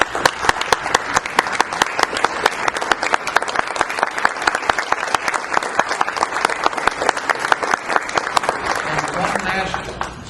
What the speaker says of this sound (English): Let's give a big round of applause to the candidates who are present here today.